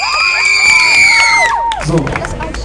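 A crowd of children at a kids' parade concert in Ludwigshafen cheering, shouting and whooping loudly for a girl called onto the stage, with bright sustained music tones underneath and a brief burst of scattered clapping near the end.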